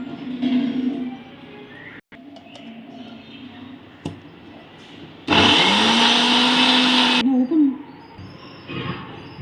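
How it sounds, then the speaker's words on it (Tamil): A mixer grinder whirs loudly for about two seconds as it grinds cumin and spices into a paste, cutting off abruptly. Quieter kitchen handling and clatter come before and after the burst, with someone speaking. "இதையும் இதில் போட்டு நான் கிரைண்ட் பண்ண போகிறேன்"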